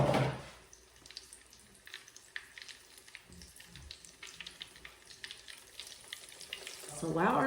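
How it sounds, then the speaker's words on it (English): Coated salmon fillets frying skin side down in hot oil, a faint, even crackle of tiny pops close by, with louder rushing bursts at the start and end and no speech. "So while our salmon is getting nice and crisp, I haven't flipped it yet."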